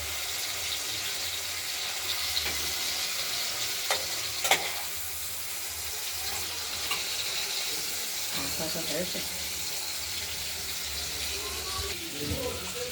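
Hand-ground spice paste fries in a pan for a pabda fish curry with potato and tomato, giving a steady, close hiss of sizzling with occasional stirring scrapes and a few brief clatters.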